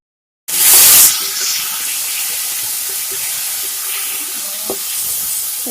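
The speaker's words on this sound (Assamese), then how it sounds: "এতিয়া মই জুইৰ ফ্লেমটো অলপ বঢ়াই ভালদৰে এইখিনি ভাজিব লাগিব" Taro stolons hit a hot pan with a sharp burst of sizzle, then keep frying in a steady hiss and crackle with occasional stirring.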